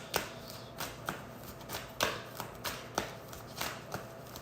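A deck of oracle cards is shuffled by hand in a series of crisp, regular riffling bursts, close and moderately loud, with no speech.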